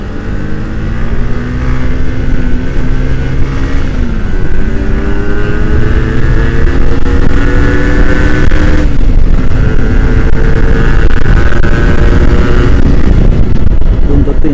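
Kawasaki Ninja R motorcycle engine revving hard and loud right up close, sustained blips rising and falling in pitch over a rough roar, with people talking underneath.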